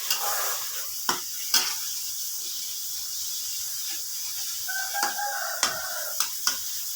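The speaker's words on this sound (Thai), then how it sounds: "เราก็ผัด ทุกอย่างให้เข้ากันนะคะเพื่อน" Vegetables and minced pork stir-frying in a pan, a soft steady sizzle punctuated by sharp scraping clicks of a spatula at irregular intervals, close and fairly quiet.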